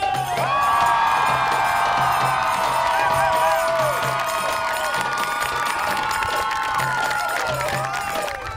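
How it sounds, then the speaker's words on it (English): Crowd at a Renaissance festival cheering and whooping loudly, with children's shouts and scattered clapping mixed into a dense, sustained roar close by. "And the crowd goes wild!"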